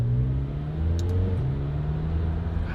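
A McLaren GT engine while driving: a steady, low, smooth drone with a slight rise in pitch midway, fairly loud and continuous inside the car, with no talk.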